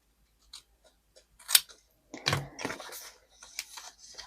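Scissors snipping paper for a planner, a few quiet, close cuts with small crisp snaps and rustles, separated by short pauses in an otherwise silent room.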